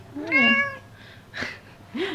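A domestic cat meows a clear drawn-out call followed by two shorter, quieter chirps, close by in an indoor room with no talking.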